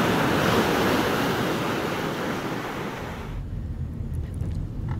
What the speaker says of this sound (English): This is just a little interlude of the ocean crashing against the shore.